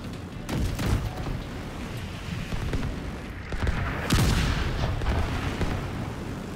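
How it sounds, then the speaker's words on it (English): Heavy weapons fire in The Division 2 combat, with an autocannon and mortars: dense, continuous booming and crackling shots with sharp loud blasts near the end, no voices. "The autocannon seems to be firing blind."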